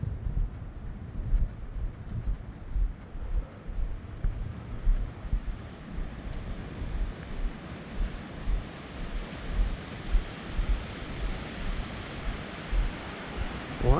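Steady roar of surf washing onto a beach at night, with broad rushing noise and gusts of wind buffeting the microphone throughout.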